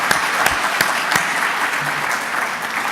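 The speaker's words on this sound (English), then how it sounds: "Applaud." Applause from the audience at a regional all-star sports gala honoring players, a dense steady clatter of many hands with a few sharper nearby claps.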